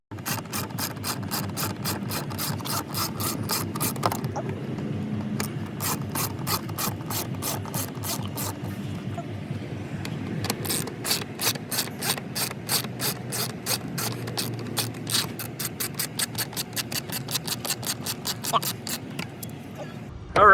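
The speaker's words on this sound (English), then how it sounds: "we're going to take these screws just till you can see the first thread on them" Rapid clicking of a ratchet working the air box screws loose on a 2013-2016 Dodge Dart, a close, steady run of pawl clicks with brief pauses between bursts.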